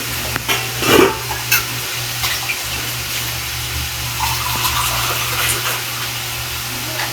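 Water poured into a pan while lumpiang togue cooks at home, a steady hiss and splash over low kitchen hum, with a brief louder clatter near the start.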